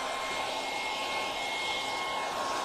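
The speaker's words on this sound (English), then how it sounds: "And I'll quickly hit that with the hairdryer." Steady, even whooshing roar of a hair dryer drying a coat of stencil paint, blowing continuously at close range, with no voices over it.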